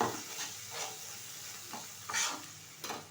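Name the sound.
ginger garlic paste sizzling and stirred with chicken masala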